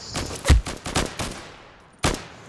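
A burst of sharp, close gunshots in the shooter game Insurgency, with sniper fire among them: about half a dozen cracks in quick succession, then a pause and one more loud report.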